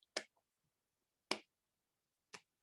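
A voice imitates an unimpressed audience by clapping slowly, three crisp, isolated claps spaced about a second apart in an otherwise quiet room.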